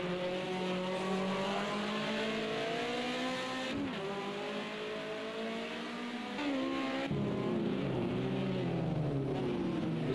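BMW 2002 race cars lapping Ruapuna Park during a club round, their engines droning loudly and continuously with rising and falling pitch as they work through a slower section, no talk over them.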